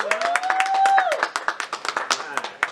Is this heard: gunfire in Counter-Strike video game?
no